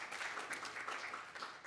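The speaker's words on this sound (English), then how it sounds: "So let's just get another round of applause for our friend Shannon." Lunch-session conference audience applauding, a fairly quiet, steady patter of many hands clapping at a distance for just under two seconds.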